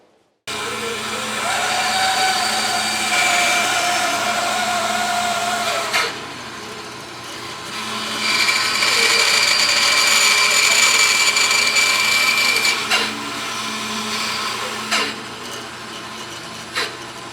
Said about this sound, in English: I'm going to go back over to the table saw and I'm going to take another, maybe just 1/4 of a degree to get that perfect.